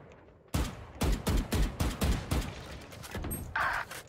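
Guardian rifle fire in a competitive first-person shooter match: a rapid string of about seven loud, sharp shots spaced roughly half a second apart, close and dominant, with no talking.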